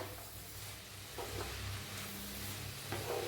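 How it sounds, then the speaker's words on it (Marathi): Cooked cabbage sabzi stirred in a pan, a soft low sizzle running steadily with a few light scraping strokes, close and fairly quiet, no voices. "हलवून घेऊया"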